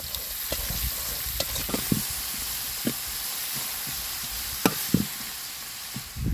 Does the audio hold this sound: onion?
yes